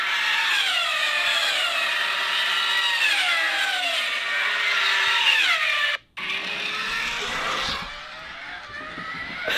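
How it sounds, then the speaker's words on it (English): A Lamborghini Huracan V10 with an F1-style exhaust revs loud and high, its wailing pitch rising and falling in long sweeps, briefly cutting out before surging again. "Literally the closest to F1 sounding exhaust ever for a Huracan R8."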